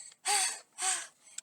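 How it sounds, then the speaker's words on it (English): A girl gasps for breath in two sharp, loud inhalations close up, with a brief pause between them and a faint breath trailing after. "Girl, gasping for breath."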